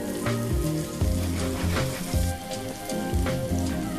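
Lightly salted pear halves frying in a pan, a close steady sizzle with crackling pops and a soft rhythmic clatter throughout, no voices.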